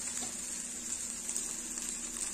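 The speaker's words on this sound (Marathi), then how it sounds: "साधारण 1 मिनिटभर भेंडी आपण छान अशी परतून घेतलेली आहे" Okra sautéing in a pan, a quiet, steady, even hiss of sizzling oil throughout, with no voices over it.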